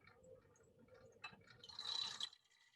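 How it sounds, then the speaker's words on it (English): Water is poured into a container during a school microbiology experiment, a soft rising hiss and splash building for about a second before stopping, faint against a quiet room. "get the water in there now"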